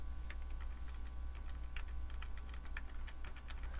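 Computer keyboard keys are pressed in a quick, irregular run of light clicks, faint and close against a steady low hum, with no talking.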